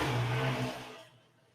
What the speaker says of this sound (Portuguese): Desculpa aí a moto aí passando